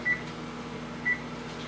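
An oven timer being set for five minutes gives two short electronic beeps about a second apart over a steady kitchen hum, close and clear, no talking.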